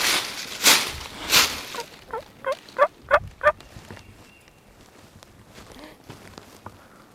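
A wild mountain gobbler in Kentucky woods gobbles in a rapid rattling burst of several notes after two louder calls, fairly close, with rustling leaves and footsteps through the rest.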